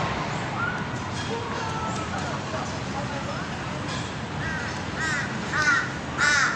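A crow perched on a roof caws repeatedly toward the end, fairly clear over steady outdoor background noise, with people talking nearby.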